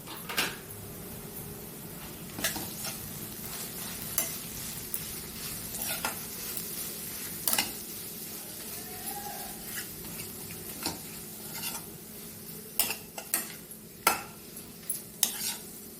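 Mashed potato stuffing is stirred in a pan with a utensil, giving soft scraping and faint sizzling under scattered sharp clinks of metal against the pan, close but quiet.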